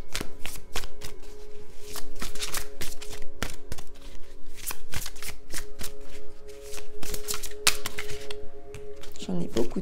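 A deck of oracle cards being shuffled by hand, giving a steady run of crisp riffling clicks and snaps close up, with a soft hum underneath and a brief voice near the end.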